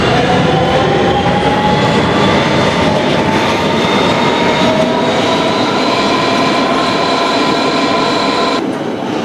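An R160B Siemens subway train in a Roblox game rumbles along the BMT Broadway Line with a loud, continuous roar and a whining motor tone throughout.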